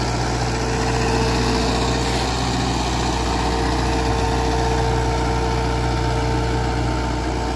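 A Mahindra 585 DI tractor drags an 18-disc harrow through a field, its diesel engine droning loud and unbroken at close range with a steady hum.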